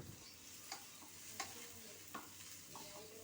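Onion fries in a pan while a spoon stirs it, a faint, even sizzle marked by four sharp scraping strokes at a steady pace, with no voices.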